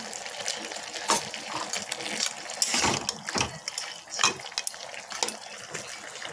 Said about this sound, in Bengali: এখন আমি হালকা জল দিয়ে দিচ্ছি।